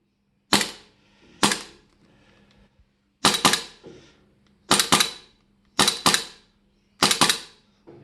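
Asia Electric G F17 gas blowback airsoft pistol, a SIG M17 replica, firing about eight sharp, loud shots close by, some in quick pairs, with brief pauses between.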